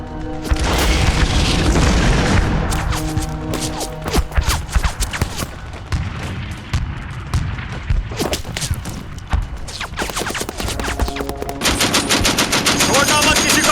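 Sustained bursts of rapid automatic machine-gun fire mixed with heavy booms in a movie trailer, loud and dense throughout, with brief lulls between volleys.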